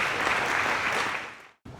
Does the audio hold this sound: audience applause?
yes